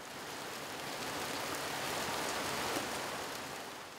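Steady rain falls on a remote Indonesian village without power or plumbing, a dense continuous hiss of drops hitting surfaces that stays even and fairly loud throughout, with no voices.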